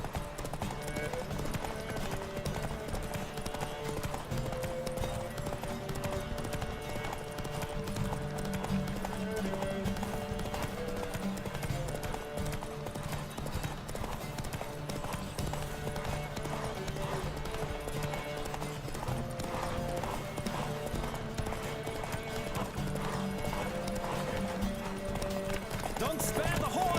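A horse gallops in a race in The Witcher 3, its rapid clip-clop hoofbeats a steady, driving rhythm over continuous music and game sound effects, with voices calling out over the top.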